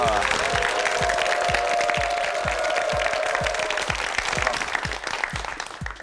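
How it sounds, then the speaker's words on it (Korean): A Korean television quiz show's studio audience applauds steadily, a dense wash of clapping with rhythmic thumps running beneath it, fading slightly toward the end. "네, 박수 부탁드립니다."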